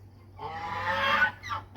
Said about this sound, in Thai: แล้วก็สิปล่อยห่านเนาะพี่น้อง